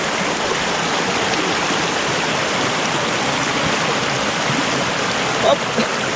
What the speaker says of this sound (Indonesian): Nah, kita akan menyeberangi sungai.